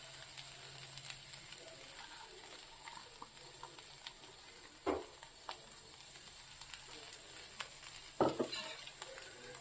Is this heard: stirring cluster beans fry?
yes